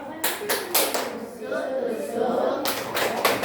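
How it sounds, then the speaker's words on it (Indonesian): A group of schoolchildren performs the tepuk sate clapping routine, sharp claps in short bursts with a pause in the middle, while voices chant and talk throughout. "Tepuk sate. Tusuk-tusuk. Kipas-kipas."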